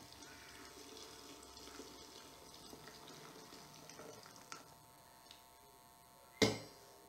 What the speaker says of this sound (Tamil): ஒரு five hundred ML of water add பண்ணிக்கோங்க